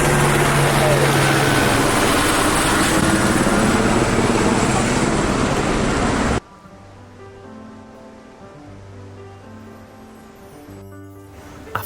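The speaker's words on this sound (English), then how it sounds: "There's my helicopter going" A loud, steady helicopter rumble with choppy blade noise as it flies past at Iguazu Falls fills the first half, then cuts away to quieter music.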